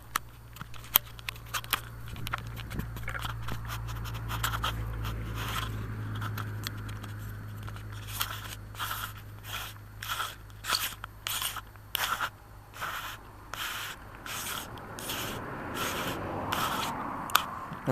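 Adjustment ring of a scope being unscrewed and screwed back on, giving close, quiet scraping and rubbing with a run of short regular gritty pulses toward the end over a low steady hum.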